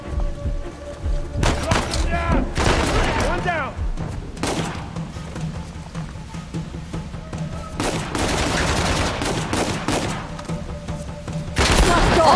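Rapid bursts of gunfire in the video game Uncharted: The Lost Legacy, including heavy shotgun blasts, crackle and boom in scattered volleys against a busy battle backdrop, with a voice talking between shots.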